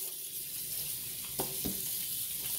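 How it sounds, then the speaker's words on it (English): Beef neckbones being rinsed under running water at a kitchen sink, a steady close hiss of flowing water with a couple of brief splashes and knocks. "Rinse my meat off here real good."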